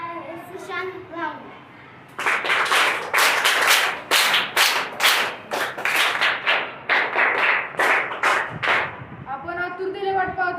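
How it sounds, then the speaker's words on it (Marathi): A voice speaks, then a school crowd breaks into loud rhythmic applause for a prize winner at a school celebration, sustained for about seven seconds before speech resumes. "जोरदार टाळ्या वाजवा."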